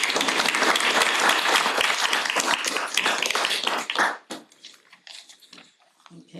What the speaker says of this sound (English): Give everybody another round of applause